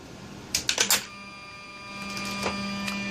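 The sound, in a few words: Mercedes SL600 electronic throttle bodies actuating on bench power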